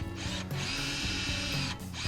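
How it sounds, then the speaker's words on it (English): Drilling into a wooden neck-through guitar body with a brand new brad point bit, a steady whirring, ratcheting drill drone that runs nearly continuously with short pauses, close and loud. "Using a brand new brad point drill bit for this."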